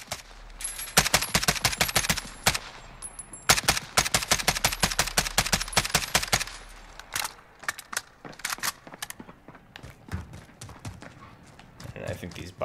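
An AKS-74U in Call of Duty Modern Warfare fires on single-shot mode, a rapid run of sharp, loud shots in quick succession, then a break and a sparser, irregular string of individual reports.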